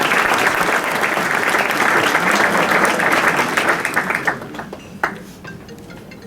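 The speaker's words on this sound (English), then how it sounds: "So give yourselves a round of applause for being here." Audience applause at an interfaith partnership annual dinner, a loud sustained wash of clapping that fades out toward the end, leaving a few scattered claps.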